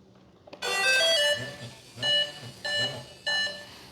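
A Blade Eclipse 360 RC helicopter gives a series of electronic warning beeps while being powered up, a long tone followed by three shorter bursts, close and fairly loud with faint background noise.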